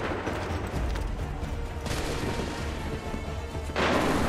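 Musket volleys in the Assassin's Creed 3 video game at the Battle of Lexington, loud booming gunfire bursts with crackling smoke-like tails, one volley early, another near the middle and a heavier one at the end.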